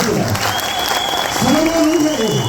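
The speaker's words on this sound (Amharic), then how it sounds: "አጨብጭቡለት ማለት ነው።" An audience applauds at the premiere of a new mafia film, a dense, steady round of clapping that fills the room, with a voice rising over it partway through.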